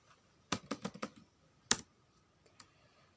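Quick bursts of computer keyboard typing while entering a username and password, a rapid run of close, crisp key clicks followed by a single louder keystroke and a faint later tap, with no talk.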